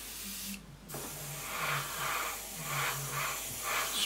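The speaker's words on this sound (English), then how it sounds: "Get our airbrush," An airbrush sprays paint onto a 1/48 scale Eduard Spitfire model, giving a soft close hiss in a series of short repeated bursts with brief pauses between them.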